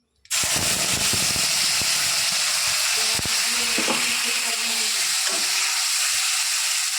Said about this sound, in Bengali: হয়ে গেছে এটা ভাজা এবার মশলা দিয়ে দেবো এর মধ্যে